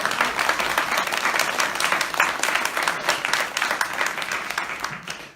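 An audience at a live Jatra Pala musical theatre performance applauds steadily, a dense wash of many hands clapping at even loudness throughout, without voices on top.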